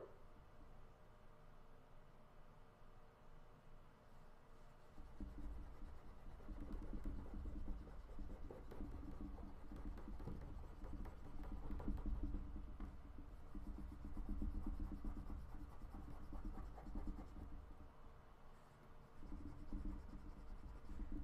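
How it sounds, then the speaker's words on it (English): Eraser rubbing touch-up spots on an inked drawing, a soft, close scrubbing that starts after a quiet opening and continues in uneven strokes under low background noise. "So I'm doing touch-up eraser spots everywhere"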